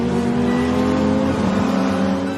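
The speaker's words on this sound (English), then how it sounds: "I floored the accelerator. My car shot forward like an arrow" A car engine roars steadily under hard acceleration, loud and close, a sustained throaty drone with rising harmonics and no voices.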